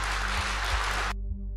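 Applause from a live audience at a talk, a dense, steady wash of clapping that runs for about a second before cutting off abruptly into quiet hum.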